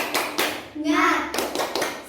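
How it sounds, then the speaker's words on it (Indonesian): Children in a primary school class give an encouraging rhythmic clap for another group, short patterned claps and taps mixed with a voice chanting in the middle, close and fairly loud. "Yuk kita beri tepuk semangat untuk kelompok 3 ya"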